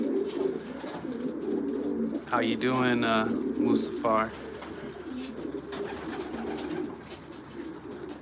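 Racing pigeons coo in a loft, a low steady murmur of calls running throughout beneath a voice greeting one of the birds.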